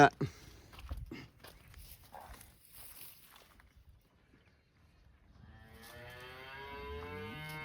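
A cow moos in a long, drawn-out call near the end, after scattered thumps, shuffling and faint background noise, at a farm selling cows and calves.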